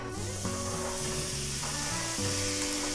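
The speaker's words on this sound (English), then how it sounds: "It's just a low sizzle" Meat frying gently over low heat in a pan for dolma, giving a steady, close sizzle and hiss that holds throughout with no talking.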